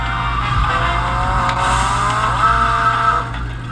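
Motorbike ridden in a PSP video game: a steady, droning engine whine whose pitch climbs partway through, with a hissing skid layered over it, continuous and without talk.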